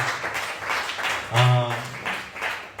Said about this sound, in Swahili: Ongezeni tena makofi kwa ajili ya mtumishi wa Bwana.